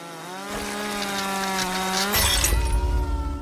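A chainsaw cuts trees for firewood in a forest, its engine droning loud and close, then straining harder as the chain bites into the wood near the end.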